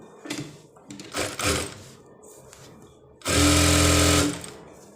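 A sewing machine stitches a side seam on a long satin gown, first in short bursts and then in one loud, close run of about a second, with fabric handling in between.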